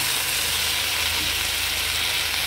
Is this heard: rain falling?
no